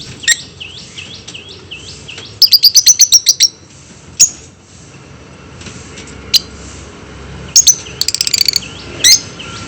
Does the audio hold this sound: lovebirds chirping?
yes